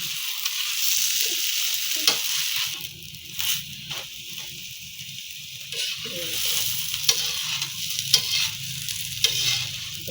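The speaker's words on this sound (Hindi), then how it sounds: "ये देखो ये मेरा पराठा हो रहा है फ्राई हो रहा है" A saag paratha fries on a pan, a steady close sizzle with occasional clicks and shifts in loudness, no talking.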